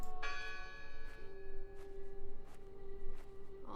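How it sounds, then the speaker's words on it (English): A church bell tolls in the video game Draugen. Several strokes ring out with a long humming decay, the tolls coming about every second over steady ambient game sound. "you're going to discuss the bell still ringing"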